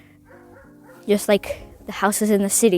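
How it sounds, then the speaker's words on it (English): Dogs in a wintry Russian village, a few yips and barks against a steady low hum, partly mixed under a person talking nearby. "the dogs are barking very loudly"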